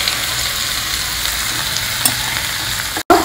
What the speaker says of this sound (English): When the dals are brown, add in these chopped lady's fingers,